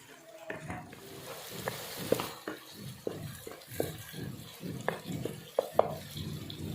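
A spoon scrapes and stirs through tomatoes sizzling in a pan for a tadka, with rhythmic clinks against the metal over a steady frying hiss.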